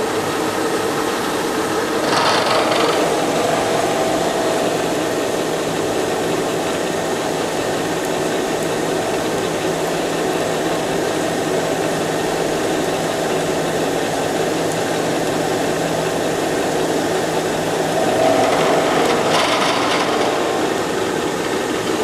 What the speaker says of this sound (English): Back off, turn my spindle power feed on.